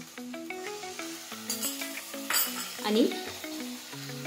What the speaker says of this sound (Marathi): यात आपण घालणार आहे सोया सॉस